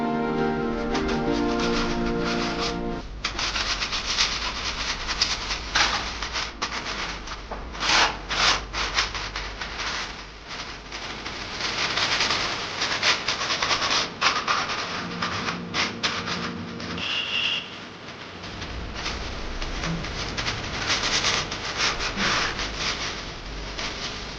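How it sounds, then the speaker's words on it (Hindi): Painters scrape flaking, peeling paint off the walls of a house with steady, continuous rubbing and rasping strokes. The sound is close and fairly loud and runs throughout, with brief pauses and knocks in between. "जो वो पपड़ी आ जाती है ना कलर में, तो उसको खुरच रहे हैं"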